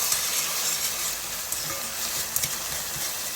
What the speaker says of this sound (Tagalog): ilagay na natin yung ating tuna. Yan. Halo-halo lang para maluto yung ating tuna.